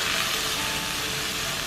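Black pepper beef sizzles and fries in a hot pan just after being flipped, a steady, close, dense hiss with no talking.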